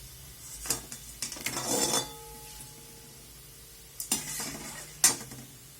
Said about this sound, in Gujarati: આ રીતે આપણે બધા ઘઉં તળી લઈશું